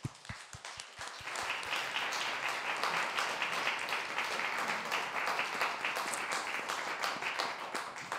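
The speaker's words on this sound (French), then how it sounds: "On peut l'applaudir, s'il vous plaît" An audience applauds an author after her book, Le chapeau de fruits, is presented at a literary event: sustained, dense clapping from a crowd, starting with a few sharp claps and then holding steady and moderately loud throughout.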